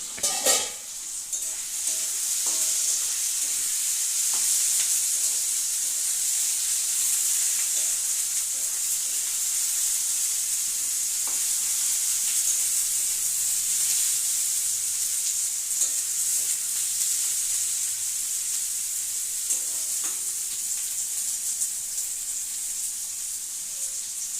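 Spices sizzle steadily in hot oil as a spoon stirs them around the pan, with a continuous close frying hiss and occasional scraping clicks throughout, no voices.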